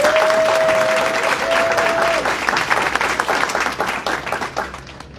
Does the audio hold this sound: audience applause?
yes